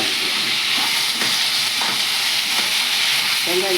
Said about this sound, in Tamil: வதக்கிக்கலாம் வெங்காயம் தக்காளி